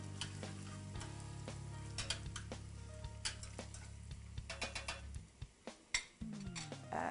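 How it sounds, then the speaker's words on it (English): Ginger sautéing over medium-high heat in a hot pan, a steady sizzle running throughout with frequent sharp clicks and scrapes from stirring, then a brief quieter gap before the sizzle swells again. "I'm going to saute this over medium-high, stirring it really frequently for about 30 to 60 seconds"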